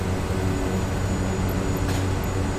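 Kodiak 100 turboprop in Microsoft Flight Simulator at takeoff power on the runway, a steady, dense engine and propeller drone with a low hum, continuous and unchanging, and no voices.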